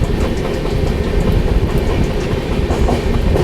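Tamil Nadu Express running between Itarsi and Nagpur, a steady loud roar of wheels on rails with a continuous close rumble and faint clatter, no voices.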